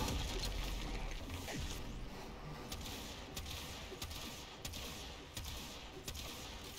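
Sniper gunfire in the video game Warframe: a series of sharp, evenly spaced shots pops out over busy, constant game noise, moderately loud throughout.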